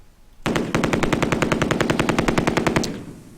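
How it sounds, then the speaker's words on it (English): A heavy machine gun in a World War II tank strategy video game fires one long sustained burst of rapid, evenly spaced loud shots. Near silence comes before and after the burst. "I'm hoping this heavy machine gun would do some damage here"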